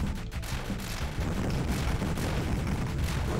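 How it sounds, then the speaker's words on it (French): Player's small ship blowing up in the Raiden DX arcade shooter: a dense, continuous rumbling blast with crackling low-end booms and steady noise, loud and sustained throughout with no voice. "l'animation de l'explosion de votre petit vaisseau"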